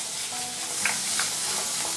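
Minced pork stir-frying in a pan, a continuous close sizzle with a few light scrapes of the spatula as the meat is moved around.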